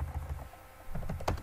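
A command being typed on a computer keyboard, with quiet, close keystrokes tapping in an uneven rhythm and short pauses between them.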